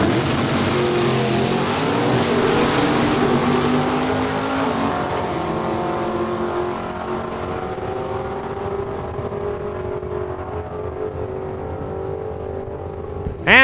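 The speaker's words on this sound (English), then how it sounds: "Watch that red Camaro. He's going to pull the front wheels on that starting line." Red Camaro drag car at Saskatchewan International Raceway in Saskatoon launching off the starting line, a loud sustained engine roar with layered harmonics holding steady and slowly fading as the car pulls away.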